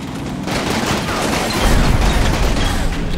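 Machine gun fire in Combat Mission Battle for Normandy rolls as a continuous dense, loud rattle of rounds, with a heavier low rumble swelling midway and no voices.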